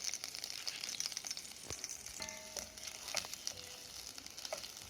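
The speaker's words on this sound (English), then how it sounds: "my pan is hot now and I have added some olive oil into it. Now what I am doing is I am adding my garlic and the red chilies" Garlic and red chilies fry in hot olive oil in a pan, giving a steady close sizzle with faint crackles and a few light utensil taps.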